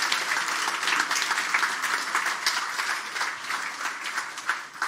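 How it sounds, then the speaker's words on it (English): Audience applause at a photography awards ceremony honouring winners and finalists, a dense steady wash of many hands clapping throughout, moderately loud and sustained without pause. "let's all together a round of applause for all the winners and finalists and shortlisted artists."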